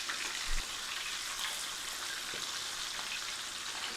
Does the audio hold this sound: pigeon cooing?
no